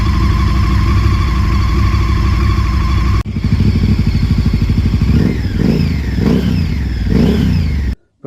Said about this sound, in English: I'll insert some clips of her running that I took in between.